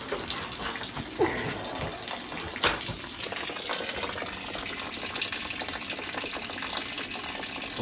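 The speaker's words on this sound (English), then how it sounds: "It's a lot of water." Water pouring and gushing steadily out of a freshly drilled hole in the bottom of an old 1973 metal duct under a house, a continuous splashing stream with a couple of brief knocks, no talking.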